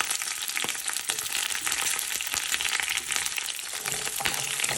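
Onion, curry leaves and green chilli fry in hot oil with mustard seeds, making a loud, continuous crackling sizzle with small pops throughout.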